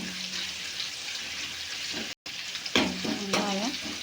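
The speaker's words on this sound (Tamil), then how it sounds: "வெங்காயம் கொஞ்சம் நல்லா வதங்கணும்" Chopped onions sizzle and fry steadily in a hot pan for radish sambar, a close, continuous crackle broken by a brief gap and then a few scraping stirs with a spoon.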